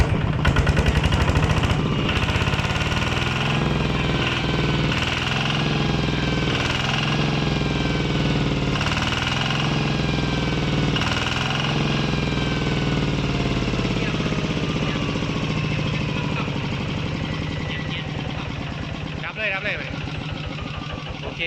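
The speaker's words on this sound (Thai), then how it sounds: "เสียงเครื่องนิ่มนะครับผม" A brand-new Kubota RT140 Plus small diesel engine runs loud and rough close by, its pitch rising and falling as it's revved, then settling lower toward the end.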